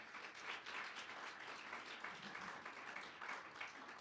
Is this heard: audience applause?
yes